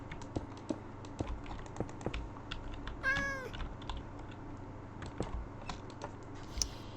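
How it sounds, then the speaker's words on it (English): A single short, cute cat meow from a Minecraft game sounds once, mid-clip, over steady, quick computer keyboard typing with no talking. "Oh, that was the cutest meow ever."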